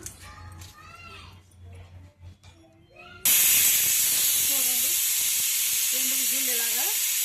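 A loud, steady hiss of steam rushes from a pressure cooker cooking dal, starting abruptly and continuing without a break while someone talks over it.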